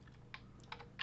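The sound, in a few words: typing on a computer keyboard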